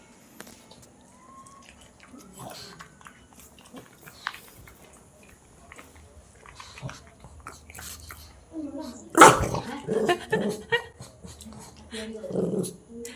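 A dog growls and scuffles close by around the middle of the clip, with snorting and chewing-like sounds, after a quiet start with faint background noise and some talking.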